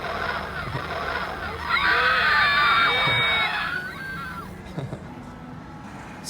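A small Godzilla toy plays its built-in sound effects, a loud sustained burst of crowd-like screaming and shrill cries that swells for a few seconds and then fades, close to the microphone.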